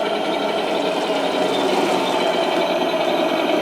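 A remote-controlled T-72 tank model turns in place at slow speed, giving a steady, loud mechanical whir and gear buzz that holds constant throughout with no pauses.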